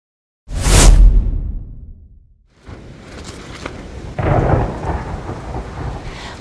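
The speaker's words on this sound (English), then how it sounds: "Flash, boom, wind and rain." Night thunderstorm beside a tent: a loud, close thunderclap booms and rumbles away, then steady rain and gusting wind roar over the fabric, swelling midway.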